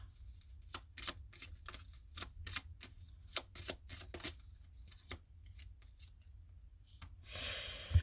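Tarot cards are shuffled and drawn in a quiet room: a long series of soft, crisp snaps and flicks at an uneven pace, ending in a brief rustling burst.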